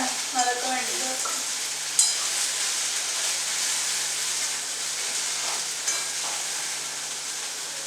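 Food is stirred and sautéed in a pan at home, a steady close sizzle with a few scraping strokes of the spoon near the start and occasional clinks, with no talk.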